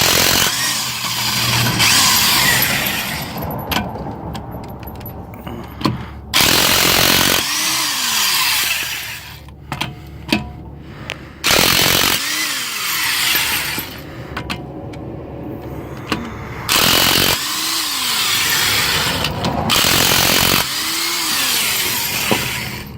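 A pneumatic air impact gun rattles in loud, repeated bursts while removing the tie rod end bolts on a car, with short pauses between hammering runs.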